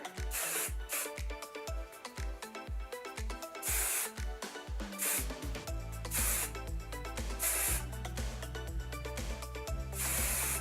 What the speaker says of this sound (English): I'm just gonna go in and spray like a crazy person